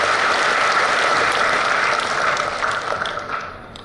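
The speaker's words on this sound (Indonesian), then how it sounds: "sekali lagi memohon tepuk tangan yang meriah" Audience at a university rector's speech applauding loudly and continuously, the clapping dense and close at first, then gradually thinning and fading toward the end.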